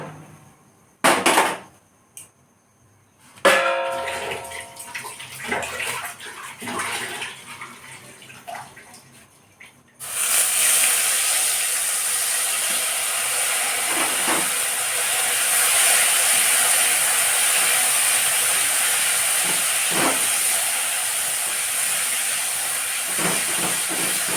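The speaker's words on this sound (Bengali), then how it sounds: "মশলাটা আমি ভালো করে কষিয়ে নিচ্ছি" Spice paste with coriander and dry chili powder frying in oil for cauliflower curry, a steady loud sizzle and hiss filling the second half after a few clinks and scrapes of stirring.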